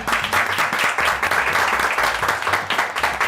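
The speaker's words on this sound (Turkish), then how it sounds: "Evet bir alkış daha alalım" A studio audience on a cooking competition show gives a round of applause, loud dense clapping from many hands with a few stronger individual claps, sustained for over three seconds.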